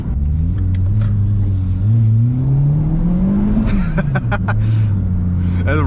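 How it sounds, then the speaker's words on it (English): A turbocharged Toyota Corolla accelerating on a wet road with brief wheel spin: a loud, steady engine drone rising and falling in pitch from inside the car, with clicks and knocks over it. "That little wheel spin back there is very entertaining."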